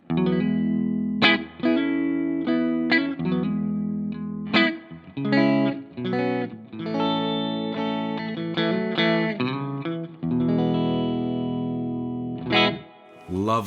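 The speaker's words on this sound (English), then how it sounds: "this is my tone, just the amp and the guitar" Clean electric guitar through an amp plays chords and short phrases, notes ringing and stopping with brief gaps between strums.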